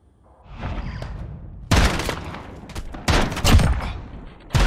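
Gunfire in the Modern Warfare beta 2v2 mode, heard as a faint lead-in and then three sharp, loud bursts of shots at close range, each trailing off briefly before the next.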